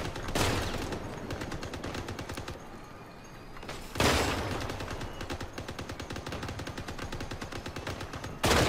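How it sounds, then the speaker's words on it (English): Pulsar weapons fire in the vehicle combat game Crossout, dense rapid bursts of loud crackling shots in two long volleys separated by a brief lull, with no voices over them. "That pulsar did a lot of hits"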